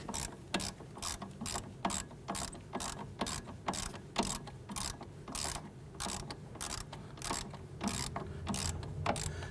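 Rapid ratchet clicks ring out in repeated bursts as a strut nut is snugged down on the front strut and spring assembly of a 2008–2013 Infiniti G37, loud and close with steady rhythm and no talk.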